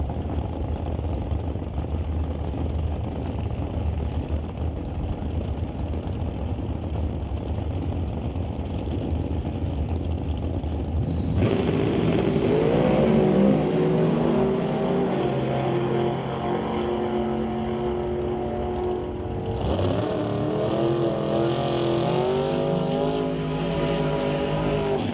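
A Pro Stock drag race car roars down the Mission Raceway Park strip, its engine pitch climbing and dropping through several gear changes as it pulls away loud and steady.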